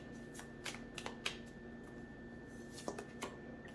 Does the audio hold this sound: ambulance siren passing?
no